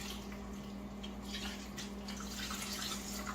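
Turkey broth poured into a roasting pan for a Christmas turkey dinner, a steady close liquid trickle and splash running continuously with a constant low hum underneath.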